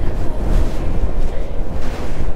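Strong side wind gusting at the seaside in a storm, blowing sand about, with a loud close roar of buffeting wind and surf on the microphone and no talk.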